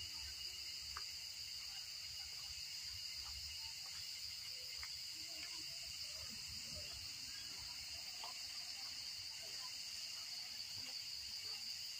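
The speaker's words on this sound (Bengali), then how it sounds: "নিস্তব্ধ জায়গা, চুপচাপ ঝিঝি পোকার ডাক শোনা যাচ্ছে।" Crickets chirp steadily at an orchid conservation centre in Arunachal Pradesh, a faint, continuous high trilling over a quiet, still background with scattered tiny clicks and no voices.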